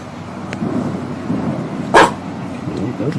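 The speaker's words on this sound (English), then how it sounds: "Those dogs are barking." Dogs barking in the distance outdoors, a couple of faint barks and one sharper, louder bark near the middle, set against a steady low background rumble.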